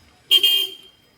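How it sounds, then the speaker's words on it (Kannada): A single short vehicle horn toot, about half a second long, fairly clear against an otherwise quiet background. "ಎಷ್ಟು ಖುಷಿಲೇ ಹಾರ್ನ್ ಮಾಡ್ಕೊತ ಬರತ್ತಾರ ನೋಡ್ರಿ"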